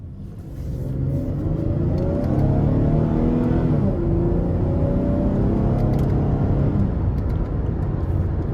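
A 2014 Chevrolet Camaro 2LS with a 3.6-litre V6 and about 104,000 miles drives on the road, its engine droning steadily and rising in pitch through a gear, with constant road and tire noise and no speech.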